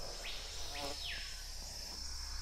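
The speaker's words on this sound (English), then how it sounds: "Is it mosquitoes?" Mosquitoes buzz in the fantasy video game Enderal: Forgotten Stories: thin whining tones rise and fall as insects fly past close by, over a steady hiss of ambient game sound.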